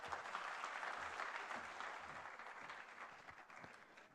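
Sustained applause from a conference audience at the Merck Foundation Africa Asia Luminary gathering in Banjul, The Gambia, fills the room steadily and loudly for about four seconds, without a break, easing slightly toward the end.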